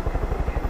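A helicopter in the Far Cry 5 video game passes with a rapid, steady thump of rotor blades, loud and close for a brief moment.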